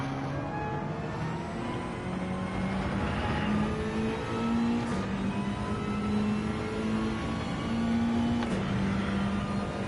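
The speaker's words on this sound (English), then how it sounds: "think I need to rev fifth out a little bit more" A race car engine in the racing game Gran Turismo 7 drones at high revs in fifth gear at Fuji, a steady loud whine rising slowly and stepping between gears, with no talk over it.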